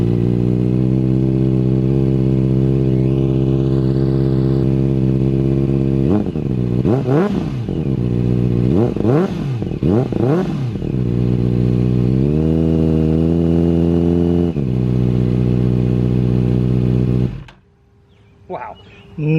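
A Kawasaki ZX-4RR motorcycle with a Graves exhaust idles steadily up close, then is blipped through several sharp revs before settling back to idle and cutting off near the end.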